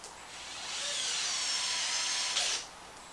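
A power tool whirs steadily for about two seconds, tightening a pin on a Traxxas Maxx RC car during an aluminum steering block install, then winds down abruptly; close and alone.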